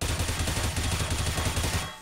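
Rapid, continuous gunfire rattles through a wall during a competitive esports video game match, with dense overlapping shots that stay loud for the whole two seconds before easing off at the end.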